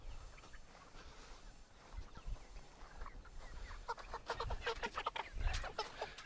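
Pastured chickens in a Suscovich chicken tractor cluck softly from nearby, the scattered clucks growing busier and more frequent toward the end over a low, quiet outdoor background.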